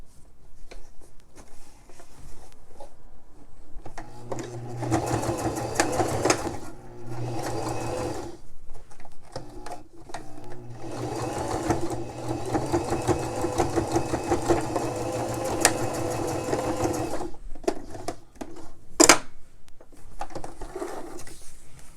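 A domestic sewing machine runs in steady bursts while stitching over the elastic strap of a fabric face mask, its motor whirring and needle clattering close up, with short pauses between runs.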